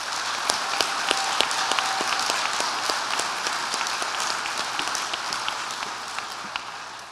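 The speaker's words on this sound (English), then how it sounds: "Another round of applause for class leadership." A graduation crowd gives a round of applause for class leadership at a ceremony involving a county sheriff's office: dense, steady clapping from many hands fills the hall for several seconds before tapering slightly at the end.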